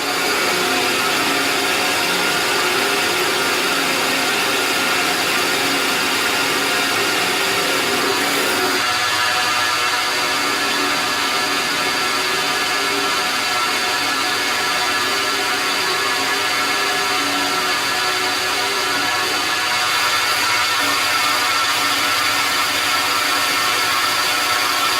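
A metal lathe turns a part down to a 12 mm diameter, with a loud, steady machine whine and cutting noise that runs unbroken and close throughout.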